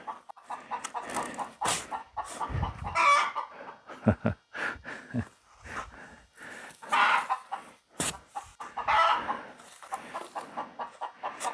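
Backyard chickens cluck and squawk in repeated bursts, with one hen giving loud, rising cackles typical of egg-laying, fairly close and continuous.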